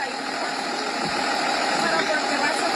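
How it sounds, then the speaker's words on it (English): A school bus engine idles at dismissal, a steady continuous rumble running throughout under voices talking nearby. "Why is the bus running?"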